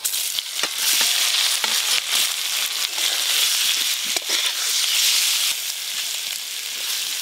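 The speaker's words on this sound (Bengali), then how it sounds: "বাটার দিয়ে পনিরও ভাজবো আজকে" Paneer sizzles steadily in melted butter in a pan, a dense bright frying crackle that stays loud and continuous throughout, with occasional small pops and no talking.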